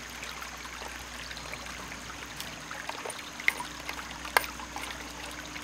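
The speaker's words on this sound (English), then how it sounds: "Now that I have full flow on the drive pipe, I'm going to close this off" Water runs through the drive pipe of a half-inch ram pump with a stand pipe, a steady soft trickling flow with a couple of faint clicks, close by and with no talk.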